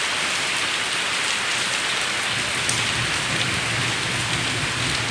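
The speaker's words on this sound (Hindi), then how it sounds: "बारिश शुरू है।" Steady rain pours down without a break, a dense even hiss of drops on surfaces.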